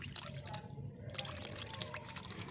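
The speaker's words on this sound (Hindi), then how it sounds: "यहाँ पे मैं इसका पानी जो है वो हटा रही हूँ" Soaking water drained off dried apricots in a home kitchen, a soft, steady trickle and patter of liquid with scattered drips, close and fairly quiet throughout.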